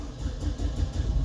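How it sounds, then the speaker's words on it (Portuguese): A car engine runs at a steady low idle on a cold day, a continuous close rumble with a slight pulsing rhythm and no talk over it. "eu vou ligar o carro agora e a gente vai ver alguns parâmetros movimentando aqui"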